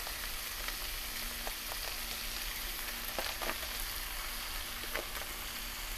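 Ground beef frying with vegetables in a pan, a soft steady sizzle with occasional faint crackles and light scraping, fairly quiet and without talk.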